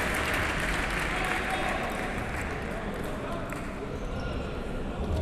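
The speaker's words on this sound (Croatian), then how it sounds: "Zaradio aplauze." A basketball crowd applauds after a player's dribble, a steady roar of clapping and cheering that fills the arena throughout, with a commentator talking over it.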